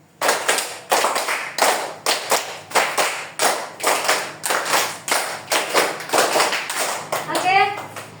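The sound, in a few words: children clapping hands in a classroom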